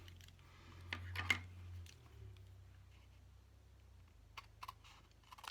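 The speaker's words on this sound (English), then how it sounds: "So I'm just going to use my snips." Snips cut paper pieces for a sunburst background, a few close, crisp clicking snips in short clusters separated by quiet pauses and a low hum, with no talk.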